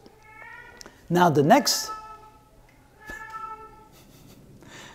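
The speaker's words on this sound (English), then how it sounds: "that's our cat acting kind of weird" A cat lets out one loud, drawn-out meow close by, with fainter mewing sounds later. Someone speaks briefly before it.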